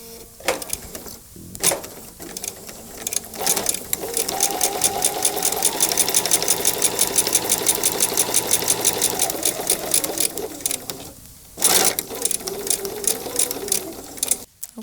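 A sewing machine stitches a quarter-inch quilt seam for a star block, running in a fast, even hum for several seconds between short bursts of clicks and handling noise.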